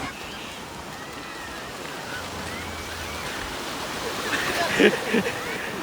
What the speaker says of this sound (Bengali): দেখো কি সুন্দরভাবে ঢেউগুলো আসছে।